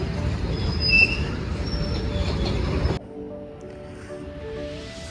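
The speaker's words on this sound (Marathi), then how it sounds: "मालगाडी निघाले." A freight train pulls out of Khed railway station with a loud, close, broadband rumble and a brief wheel squeal. After about three seconds the sound cuts abruptly to a much quieter station ambience with a faint hum.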